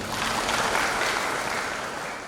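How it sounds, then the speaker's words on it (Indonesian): An audience applauds during a talk about Bali: a soft, even wash of clapping, fairly distant and steady, that fades slightly toward the end, with no voices over it. "Tepuk tangan dulu dong"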